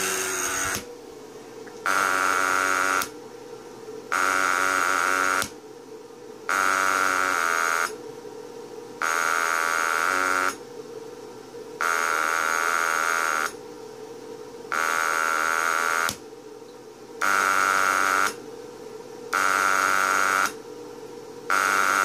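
An electric motor buzzer imitating the UVB-76 radio buzzer sounds in steady on-off bursts, each lasting about a second with short gaps, loud and harsh, repeating throughout with no talking.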